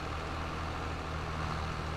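A tractor engine runs with a steady, dense rumble and hiss on a farm, close and continuous, with no voices.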